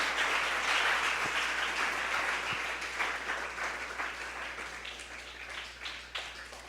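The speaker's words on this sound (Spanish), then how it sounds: "Vamos, que suene bien fuerte ese aplauso para el Señor." Church congregation applauding in praise of the Lord during a Spanish-language sermon, a dense wash of clapping that stays steady and fairly loud, easing slightly toward the end with no talking over it.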